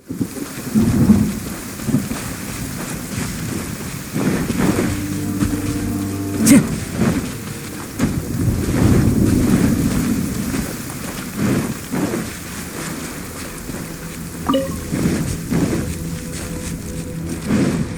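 Thunderstorm in Genshin Impact: steady heavy rain with low rumbling thunder swelling and fading, plus a few game chimes and tones over the top, no voices.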